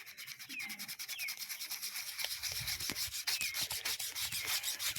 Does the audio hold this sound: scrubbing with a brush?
yes